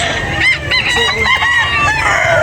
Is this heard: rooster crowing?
yes